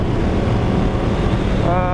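Ducati Diavel motorcycle engine while riding, a loud continuous drone mixed with heavy wind rush past the microphone, with a rising tone toward the end as the engine revs up.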